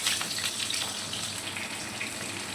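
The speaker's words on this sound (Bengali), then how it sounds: "আলুটা একটু ভেজে নেব" Potatoes frying in hot oil with whole cumin, a soft, steady hiss and bubbling sizzle throughout, fairly faint and close.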